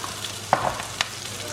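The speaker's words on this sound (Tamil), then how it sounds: "ஸோ தேங்காயையும் இந்த வெங்காயத்துக்கூடையே ஒரு 2-3 நிமிஷம் ஃப்ரை பண்ணிடுங்க." Grated coconut frying with onions in a pan, a soft continuous sizzle with a few brief stirring scrapes and clatters, fairly quiet and close, no voices.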